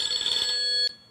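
A telephone rings in a single shrill electronic trill that holds for under a second and stops abruptly, close and fairly loud with no talk.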